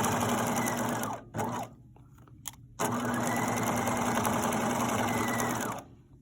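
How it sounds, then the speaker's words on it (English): A sewing machine stitches fabric in fast, even bursts, stopping briefly twice before running on steadily, close and loud with no talking. "now I'm going to continue sewing"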